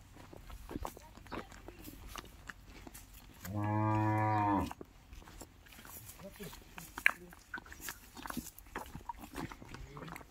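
A Khillar bull at a busy rural cattle market lets out one loud, close moo lasting about a second, with people talking and moving about in the crowded yard before and after the call.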